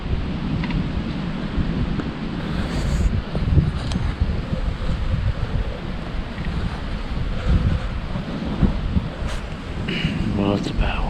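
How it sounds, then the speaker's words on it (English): Strong wind gusts through woods during a Pennsylvania rifle deer hunt, producing a steady roaring rush with buffeting against the microphone that continues throughout. "It is windy and the temperature is dropping."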